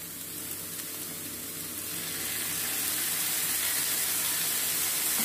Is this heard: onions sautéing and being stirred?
yes